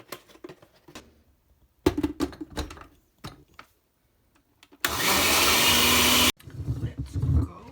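A kitchen blender whirs loudly for about a second and a half, blending coconut milk and banana pieces for breakfast, set among quieter clicks and clatter.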